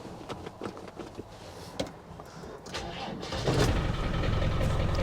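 A Land Rover 300tdi diesel engine, left standing for about three months, cranks with a few uneven turns and then catches, rising into a loud, steady idle close by.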